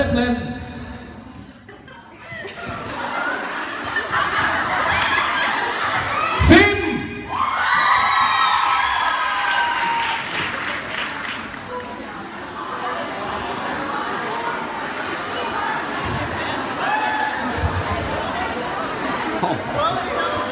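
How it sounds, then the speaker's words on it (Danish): An audience at a beauty pageant shouts, whoops and cheers in a loud, sustained crowd roar, with a sharp burst partway through and chatter mixed in. "Jeg kan bare høre folk, der står og råber her med, Mark, for helvede, hvad laver du?"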